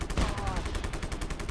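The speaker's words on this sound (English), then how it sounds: "I'm shooting the wall" Rapid automatic gunfire in the video game Just Cause 3, aimed at a wall, with dense, loud, evenly spaced shots rattling continuously and no pause.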